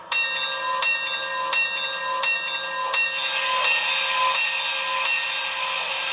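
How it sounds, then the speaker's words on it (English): A model train locomotive bell, a Broadway Limited brass hybrid ATSF #3460 Blue Goose with Paragon 4 sound, clangs in a steady, evenly spaced rhythm, about four strikes, then a sustained bright tone takes over, close and fairly loud with no talking. "let's listen to the bell real quick."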